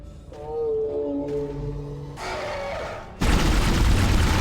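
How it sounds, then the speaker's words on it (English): A monster in the Dead Space horror video game lets out long, low, moaning wails that bend in pitch like a whale call, heard loud and close before the scene bursts into a heavy roaring crash. "The wailing of what sounds like the Death Stranding whale boss."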